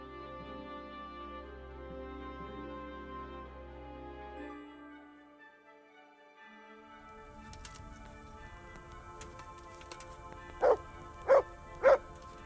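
A dog in the medieval game Kingdom Come: Deliverance gives three sharp, evenly spaced barks near the end, loud and close over a quiet bed of game music and ambience.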